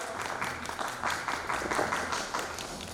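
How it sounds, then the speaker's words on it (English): An audience at a national multidisciplinary academic seminar claps for the session chair and co-chair, a brief, moderately loud round of applause with a fairly even, sustained texture. "Can we please have a round of applause?"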